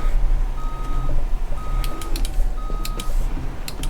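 A heavy truck in the driving game BeamNG.drive backs up with evenly spaced reversing beeps over a low rumbling engine idle, with a few sharp clicks in between.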